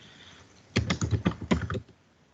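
Typing on a computer keyboard to enter an assignment title, a short burst of quick, close keystrokes lasting about a second between quiet pauses, with no talking.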